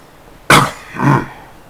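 Two loud, close coughs from a man who is sick, a sharp burst followed by a shorter second one, heard alone over faint room noise.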